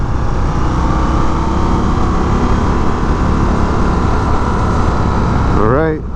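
Loud, close roar of an Indian FTR 1200 motorcycle engine under throttle, steady and dense over several seconds, with wind rush and a pitch sweep near the end; no voices heard.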